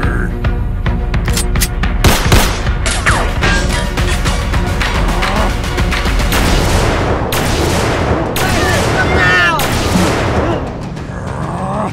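A film battle scene with a volley of gunfire after an order to fire: dense, loud overlapping shots and booms continue throughout with crashing impacts, while shouted voices sit under the din.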